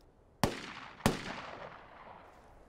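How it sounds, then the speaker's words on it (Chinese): Two sharp gunshots fired into the air, about half a second apart, each with a long rolling echo that decays slowly into quiet outdoor ambience, in a wartime spy drama scene. "他们这枪啊，是朝天上放的。"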